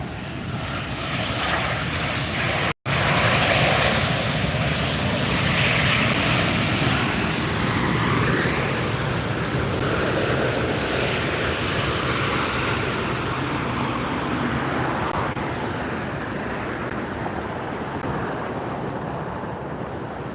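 A United airliner's jet engines roar at Los Angeles International Airport, a loud, steady, broadband rumble that holds for the whole stretch and eases slightly toward the end, broken by one brief dropout near the start.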